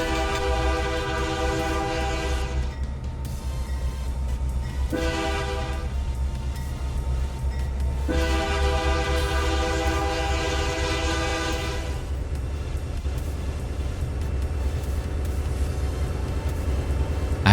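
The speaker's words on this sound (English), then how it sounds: "now we're finally going to pull back onto the siding here in Farmersville and request permission from the dispatcher" A freight train in the Trainz 2019 simulator pulls onto a siding at Farmersville, its diesel engine rumbling steadily while the horn sounds in several long blasts, loud and close throughout.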